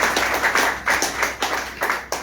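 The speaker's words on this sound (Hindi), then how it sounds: "एक बार जबरदस्त तालियां होंगी।" An audience at a business seminar claps in dense, rolling bursts that swell and dip, loud and close, with no talk over it.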